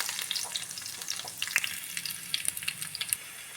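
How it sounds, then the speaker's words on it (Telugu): Garlic fries in hot oil for a tempering, a steady bright sizzle peppered with rapid crackling pops, close and continuous, with no talking. "ఇప్పుడు పోపు వేసేద్దాం"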